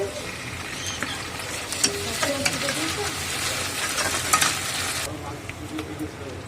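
Ginger-garlic paste hits browned onions in a hot pan, a loud continuous sizzle with stirring clicks and scrapes throughout, dropping slightly in brightness near the end.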